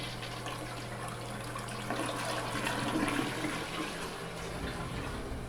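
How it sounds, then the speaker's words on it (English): A toilet flushing in a Super 8 hotel room in Ottumwa, Iowa, a steady rushing swirl of water that swells midway and then settles into a refill flow, close and alone. "Here's me flushing the toilet."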